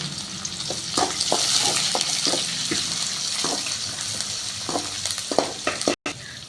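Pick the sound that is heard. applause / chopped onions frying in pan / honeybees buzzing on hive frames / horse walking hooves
chopped onions frying in pan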